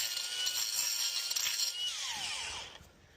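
An angle grinder carves out cracks in exterior masonry, a harsh, steady gritty whine that runs close and loud for nearly three seconds before cutting off.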